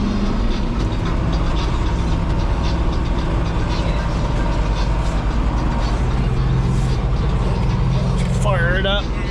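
A backhoe and a skid loader run together on a farm during first cutting. Their engines make a loud, steady drone with low rumble and clatter that continues the whole time, and a brief squeal sounds near the end.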